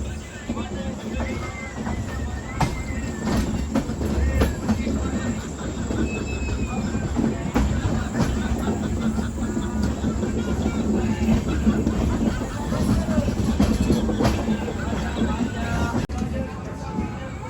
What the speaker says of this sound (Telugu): అటువైపు నుంచి ఏదో ట్రైన్ వెళ్ళిపోతుంది